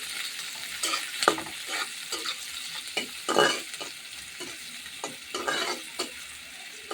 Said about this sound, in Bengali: কাঁচামরিচ পেঁয়াজ রসুনটা ভাজিয়ে